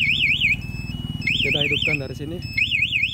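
A motorcycle alarm module (MP 2 Way) fitted to a Yamaha NMax sounds a warbling, rising-and-falling electronic chirp in repeated bursts, loud and close, with someone speaking briefly underneath.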